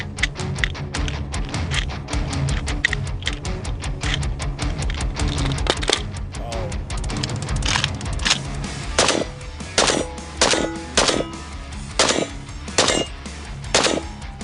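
Rapid bursts of automatic fire from a cursed hybrid of an AK-47 and a PPSH-41, loud and close, with dense rattling volleys early on giving way to spaced, sharper shots and short bursts toward the end.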